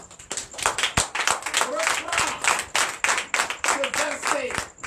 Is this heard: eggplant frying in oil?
no